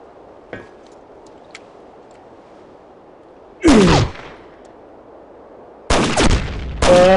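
Video game gunfire, a few separate sharp cracks, some short and some in loud clustered bursts, over a quiet background.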